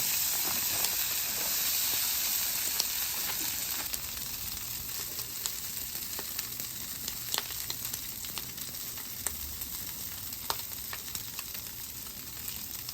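Hash browns fry in leftover sausage and bacon grease on a Weber griddle insert over a gas grill, giving a steady, close, bright sizzle with soft crackles and small pops that eases slightly after a few seconds.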